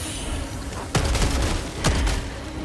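Breaker Incendiary shotgun in Helldivers 2, two sharp, loud blasts about a second apart, each with a booming tail, over a constant background of battle noise.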